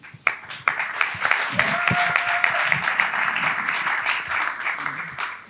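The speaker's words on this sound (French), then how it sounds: "j'aimerais qu'on applaudisse encore pour vous" A crowd applauds the women after a debate battle on social media, a dense wash of clapping with a few sharper claps, steady and fairly loud throughout, then tapering slightly at the close.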